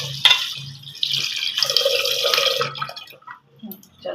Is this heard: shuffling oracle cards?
no